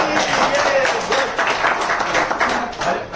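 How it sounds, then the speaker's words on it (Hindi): An indoor classroom audience claps hands together in dense, steady applause lasting a few seconds, loud and close. "ताली बजाने में बजाओ ताली"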